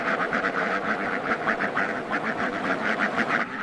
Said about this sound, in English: Next, the journey takes us to China's duck farms.